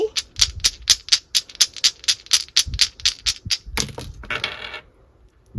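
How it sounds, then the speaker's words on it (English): Astrology dice are rolled, giving a quick run of a dozen or more bright, rattling clicks and clacks close by before they come to rest and the sound tails off. "now let me roll the Astro dice for you"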